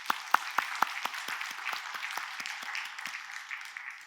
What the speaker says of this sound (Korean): 우리 이 땅에 오신 예수님께 우리 영광의 박수 돌립시다.